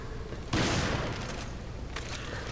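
A burst of rapid gunfire in Resident Evil 5, shooting at a creature in a dumpster, breaks out suddenly and loud, then fades into a sustained rumbling wash with a second, sharper report near the end.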